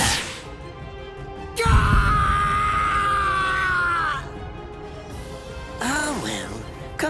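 A male character screams in agony in the video game Bleach Rebirth of Souls, a loud, strained cry held for about two and a half seconds, followed by a shorter, wavering groan.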